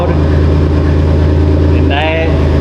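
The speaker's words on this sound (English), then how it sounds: "the exhaust back here is quite loud" A car's exhaust drones loudly at idle, a steady low rumble that runs throughout, close by and with a brief whistling tone near the end.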